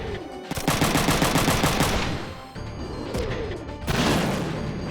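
Rapid machine-gun bursts and heavy impacts from a mecha video game, loud and close, in several rattling volleys with a brief dip between them.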